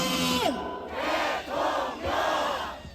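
A crowd at a street rally opposing an impeachment roars in loud, sustained shouts, three long swells of massed voices separated by brief dips, with a whistle-like tone at the start.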